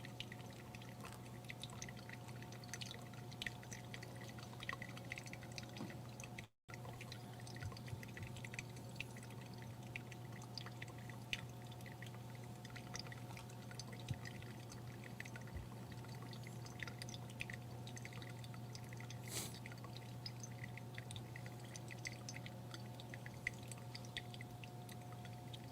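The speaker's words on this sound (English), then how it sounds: "I've just been pouring a little bit at a time just to feed it" Water poured slowly, a little at a time, over coffee grounds while brewing, a faint trickle and drip under a steady low hum, with one brief break partway through.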